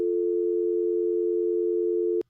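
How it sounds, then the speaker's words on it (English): A steady telephone dial tone hums continuously at an even pitch, then cuts off abruptly at the end. "I love a good dial tone."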